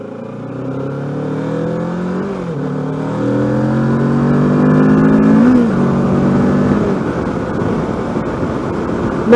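A 2021 Kawasaki Ninja 650 accelerates hard, its engine note rising through the revs in a smooth climbing whine, briefly dipping at a gear change around two seconds and again near five, loud and close with heavy wind rush, no talking.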